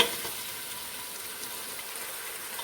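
Potatoes fry in a pan with a steady, soft sizzle, close and continuous with no talk over it.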